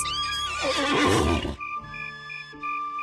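Cartoon horse from an animated fairy-tale story gives a loud, close whinny lasting over a second, then quieter trailing tones and clip-clopping effects follow with no talking.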